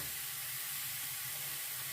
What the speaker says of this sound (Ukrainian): І обсмажимо з двох сторін до румяної кірочки.